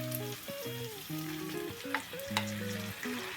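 Peppers and tomatoes for shakshuka being stirred together in a frying pan, a steady sizzle with scraping utensil strokes over continuous music-like tones in the background.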